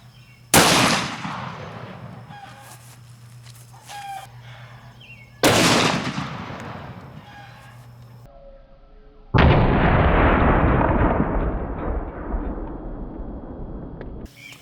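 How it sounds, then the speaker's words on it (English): Three loud, sharp handgun blasts from a S&W Magnum fired into ballistics gel outdoors, each a heavy boom spaced several seconds apart and trailing off in a long rumbling echo. "So we're going to shoot it again."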